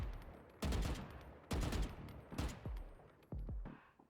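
Gunfire from the video game Valorant, fired in short bursts of about three rapid shots each, four distinct bursts separated by brief pauses, sharp and fairly close, with no talking.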